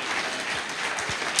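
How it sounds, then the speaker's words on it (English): Audience applause at the React 2014 conference for Martin Thompson and Jonas Boner, steady and dense across the whole short stretch, with faint low voices underneath. "So big hand of applause again for these guys"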